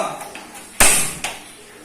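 A metal lid clanks sharply onto a pot of water set to boil on a gas stove, followed by a softer second clink; brief and close.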